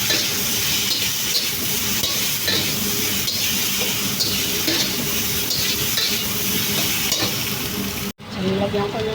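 Potatoes get stirred into dried tofu frying in a pan, giving a loud steady sizzle with scraping stir strokes that cuts off abruptly near the end before quieter sizzling resumes.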